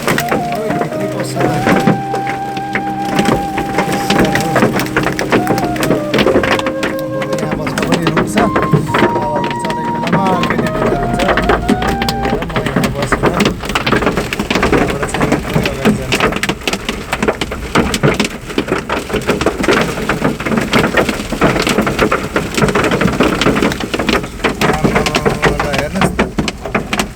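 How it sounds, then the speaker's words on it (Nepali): Heavy hail and rain pound down in a storm, a dense, loud, continuous rattle of hailstones striking surfaces and a vehicle, with people talking over it at times. "आज यस्तो खतरा असिना पानी परेको"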